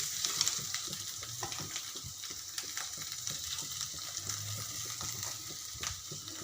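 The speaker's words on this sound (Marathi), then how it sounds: "तर आता मी उकळलेले तीन बटाटे सोडणार आहे" Three boiled potatoes dropped into a pan of sizzling spices, turmeric, coriander powder and Kashmiri red chilli powder, with a continuous close frying hiss and scattered scraping, stirring clatter throughout.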